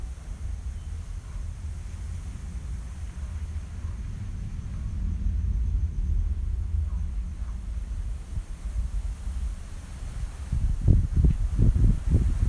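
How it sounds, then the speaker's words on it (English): Wind gusts outdoors on a cold 26-degree day, a low rumbling buffeting that swells in the middle and ends with a few sharp blustery bursts against the mic, with no talking. "Oh boy, it's getting windy."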